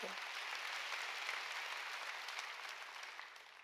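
Many worshippers in a Sunday church service clap together in a dense, even burst of applause that holds steady and fades gently, with a brief voice at the very start.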